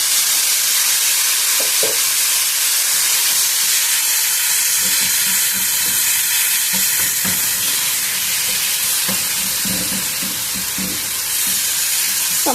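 Tomatoes frying and stirred in a pan for baingan bharta, a roasted eggplant curry: a loud, steady sizzle throughout, broken by scattered scrapes and taps of a spoon against the pan.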